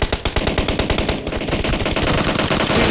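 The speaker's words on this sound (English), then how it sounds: "There's shots coming out everywhere." Rapid automatic gunfire from a PUBG Mobile tournament match, loud and dense, with fast bursts from several weapons overlapping almost without a break.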